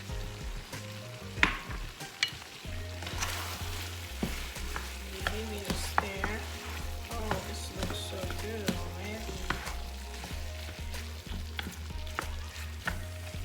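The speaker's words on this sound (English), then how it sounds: "we're gonna allow this to simmer with the onion till we see a little bit of liquid" Beans and beef stir fry with diced onion and fresh habanero pepper simmering in a pan, a steady close sizzle and bubbling with stirring scrapes and a low rhythmic hum throughout.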